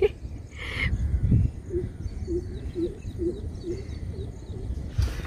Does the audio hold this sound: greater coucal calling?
yes